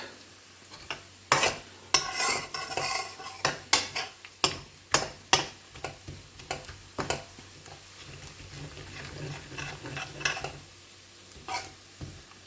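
Garlic and ginger fry in a pan for garlic chilli chicken, a quiet sizzle punctuated by a series of sharp clanks and scrapes of a utensil against the pan.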